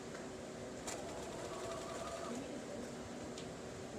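A sewing machine stitches a seam on a quilt block, producing a steady, faint mechanical whir that runs evenly throughout under a quiet room background.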